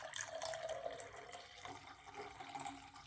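Water is poured from a container onto citrus drink powder from a Singapore Armed Forces 24-hour field ration, a faint, steady trickle and splash heard alone at low volume.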